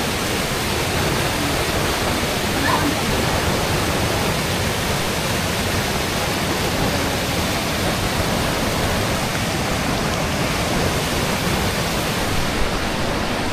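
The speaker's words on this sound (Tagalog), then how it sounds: "parang talon ni Eva" A powerful waterfall roars with strong current, a steady, loud, unbroken rush of falling water filling the whole scene with no voices.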